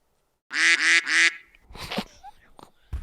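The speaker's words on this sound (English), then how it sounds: "Duck, duck, duck sounds." Three loud, nasal duck quacks come in quick succession, then a few scattered softer noises follow.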